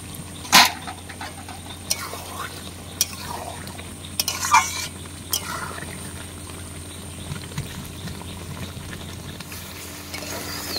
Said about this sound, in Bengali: প্রায় কষানো হয়ে গেছে, মশলা থেকে তেল ছেড়ে দিয়েছে। আমি আরেকটু কষিয়ে নেব।